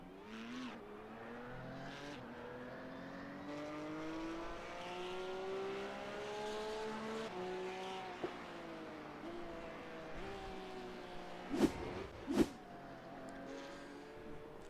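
Porsche Cup race cars in a sim racing game, engines droning and shifting pitch steadily, with a couple of sharp loud bursts near the end as a car goes off the track.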